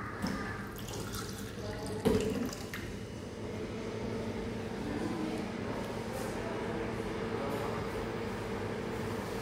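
Water running from a dispenser, a steady close trickle and hiss lasting several seconds, with a brief knock near the start.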